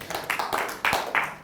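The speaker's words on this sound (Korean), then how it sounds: "위로 박수 한번 쳐주십시다 우리" A seminar audience at a Korean feng shui lecture gives a short round of applause, with scattered hand claps in a few quick bursts over about a second and a half.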